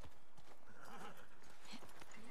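Horse hooves clip-clop in a steady walking rhythm in The Last of Us Part 2, set in snow, with a faint whinny near the end; the sound is moderately close but quiet.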